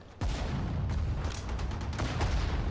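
Dense gunfire in the WWII strategy video game Sudden Strike 4, set with the Afrika Korps: rapid, overlapping shots and booming blasts in a continuous loud barrage with no pauses.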